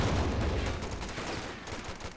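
A .50 cal machine gun fires in Company of Heroes 2, its dense, rapid bursts rumbling loud and continuous for about two seconds amid battlefield noise.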